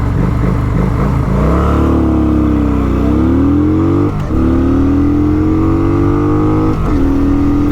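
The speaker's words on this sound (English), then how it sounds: "I'm gonna rev it out pretty high and then just drop the clutch" A motorcycle revved high and launched on a clutch drop, the engine note dipping then climbing steadily through the gears, loud and close with short breaks at each shift.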